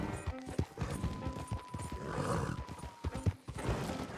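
Hooves clop in an uneven rhythm, a horse whinnies midway, and a faint mechanical tone hums underneath, all without talking, in Red Dead Redemption 2.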